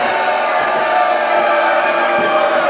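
A wrestling crowd at an indoor show gives a sustained, fairly loud wash of disapproving noise, a steady roar with scattered shouts and no clear speech over it.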